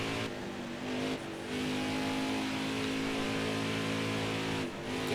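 A road course race car engine revs in NASCAR Heat 5, holding a steady droning pitch with brief dips as gears shift, a sustained mechanical hum at moderate level.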